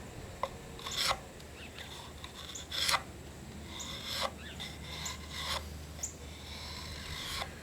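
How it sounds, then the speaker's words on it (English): Hand-forged woodcraft tool, likely a scraper or drawknife, shaving ultra fine curls off wood in a few separate rasping strokes at close range over low steady background hum. "Thing will definitely take some ultra fine shavings off of there."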